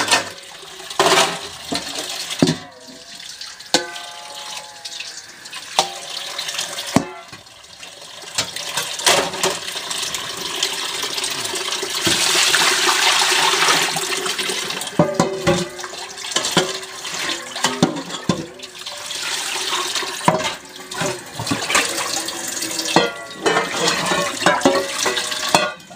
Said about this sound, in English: just give everything a good rinse